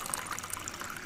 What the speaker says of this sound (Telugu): అందుకని దాంతోనే కొలతగా 2 బౌల్స్ వేసినాను వాటర్